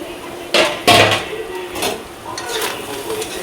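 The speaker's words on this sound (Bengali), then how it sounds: "সব কিছু দিয়ে একটু নেড়ে চেড়ে নেই" Ingredients for fritter batter are stirred in a pot, with a couple of sharp scraping clacks of a utensil against the metal followed by softer intermittent scraping strokes, close and fairly quiet.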